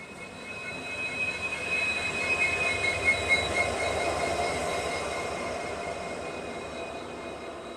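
A train pulls out of Pokaran railway station in the Thar Desert, a steady rolling rumble with faint metallic wheel squeal heard from inside the carriage, gradually swelling then easing slightly, with no voices.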